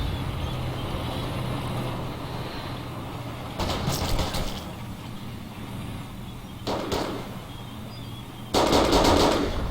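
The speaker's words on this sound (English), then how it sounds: "At that range, maybe a submachine gun." Submachine gun fire in the multiplayer World War II shooter Forgotten Hope 2 on the Dukla Pass map arrives in three short, loud automatic bursts over a steady low background rumble, with no talking.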